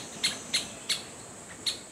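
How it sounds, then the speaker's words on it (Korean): Great spotted woodpecker calling in a forest at the edge of a woodland in May: sharp, high single calls repeated five or six times at uneven intervals, moderately distant over a quiet background hiss. "오색 딱따구리 소리도 났어요"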